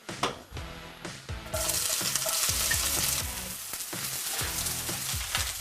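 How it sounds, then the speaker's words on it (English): Onions frying in hot oil in a pan, a steady loud sizzle that swells as they hit the oil, with stirring scrapes and clatter repeating throughout, close up and with no talking. "So to a hot pan with oil in, we're going to add the onions."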